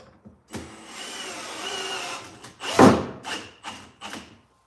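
A cheap electric drill, used while building inexpensive cabinets, whirs in several short bursts: a longer run, then one loud strained spurt and a few brief quick pulses, with no talking.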